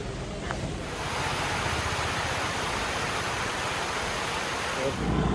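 Steady, dense hiss of rain falling without a break in Wayanad, a broad wash of noise that stays even throughout.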